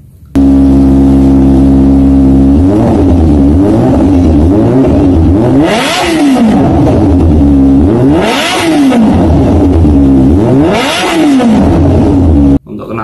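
A Kawasaki ZX25R motorbike fitted with an original SC Project full-system carbon exhaust, revving loudly and repeatedly close to the microphone, the engine note climbing and falling in three sharp blips from a steady idle.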